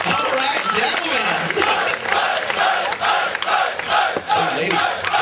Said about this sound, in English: Round of applause for the gentlemen.